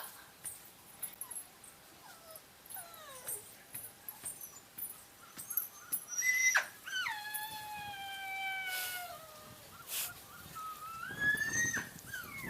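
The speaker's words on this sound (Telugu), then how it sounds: "ఇది కుక్క." A dog whimpers and whines in high, sliding cries, repeated several times over faint background noise, with a few short yips.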